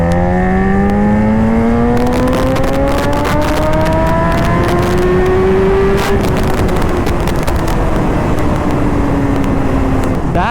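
Riding on an open road, a BMW S1000RR superbike engine roars loudly and close. Its pitch climbs smoothly through the gears in long rising sweeps, and wind rush runs underneath the whole time.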